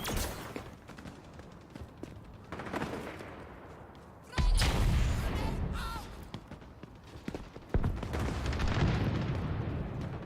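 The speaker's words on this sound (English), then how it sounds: "Grenade away!" Grenade explosions in the shooter game XDefiant: two loud, close booms with a long rumbling tail, set against ongoing gunfire and battle noise.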